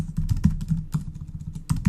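Rapid, irregular keystrokes on a computer keyboard while code is entered, clattering close and clear with short pauses between bursts and no talking.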